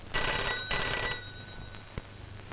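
A telephone bell rings indoors in two clear, loud bursts, followed by a short pause with faint background noise.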